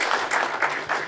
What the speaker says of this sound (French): Vous pouvez les applaudir parce qu'ils ont pris de leur temps pour venir parler de leurs expériences